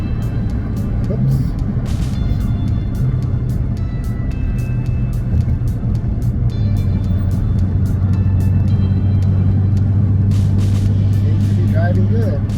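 A Maserati Ghibli SQ4 in sport mode, driving with a steady engine drone that steps in pitch as it downshifts, heard from inside the car with talking over it.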